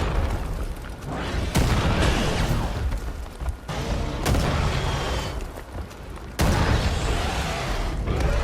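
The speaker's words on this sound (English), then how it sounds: "they do die in one hit from remote bombs" Remote bombs explode in the shooter Far Cry 5, a string of heavy booms with sharp onsets arriving every couple of seconds over rumbling game noise, loud and near.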